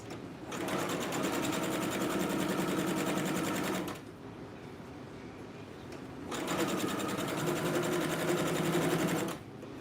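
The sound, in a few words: sewing machine stitching a sleeve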